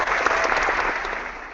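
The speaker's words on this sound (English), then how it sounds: "Clap that up for that." A crowd applauds at a sneaker championship event after the end of a regional round, giving a dense, even burst of clapping that holds steady and then tapers off slightly.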